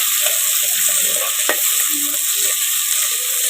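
Onion and tomato sautéing in a pan for crab curry, a steady close sizzle with occasional soft stirring sounds.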